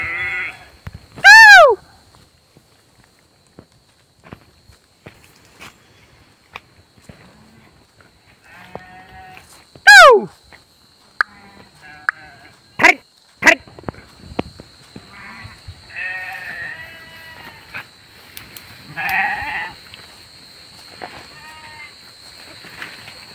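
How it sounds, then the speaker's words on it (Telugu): Sheep grazing on a grassy hillside, with a few loud, close bleats spaced well apart over a quiet outdoor background, plus fainter bleats and soft rustling in between. "గొర్రెలు కూడా ఎట్లా మేస్తున్నాయి."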